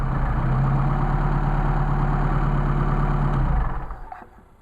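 Engine fitted with Solex 44PHH carburetors idling steadily after a hot start, a close, even low rumble that holds for several seconds and then cuts off, fading quickly to quiet.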